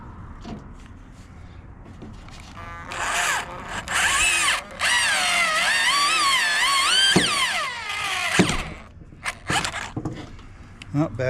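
A cordless drill counterbores holes in the seat back of a 1955 Triumph TR2. It whines up in a long, close, rising and falling run, with short clicks and bursts before and after.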